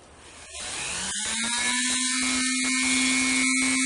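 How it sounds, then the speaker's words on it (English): Dremel rotary tool spinning up from a low start to a loud, steady high-pitched whine with a rising tone, used on a Turbo Kid mask, running continuously and alone. "Dremel time"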